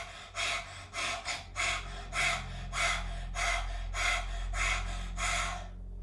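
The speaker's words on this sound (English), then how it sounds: "let's do the lion's breath one more time" Forceful yoga lion's breath exhales repeat in a steady rhythm, about ten sharp, breathy huffs close to the mic over a low background hum.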